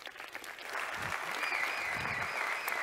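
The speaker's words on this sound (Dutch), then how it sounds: "Geef hem een applaus." Audience applause at a keynote speech, building from a quieter start into a steady, dense wash of clapping from a large crowd that carries through to the end.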